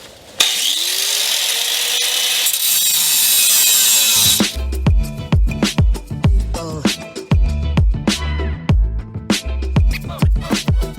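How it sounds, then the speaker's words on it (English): A grinder runs continuously on a 2000 Dodge Dakota, grinding off welds with a loud metallic whine, then gives way to a series of sharp, irregular clanks and knocks close by. "I'm just going to grind off all these welds"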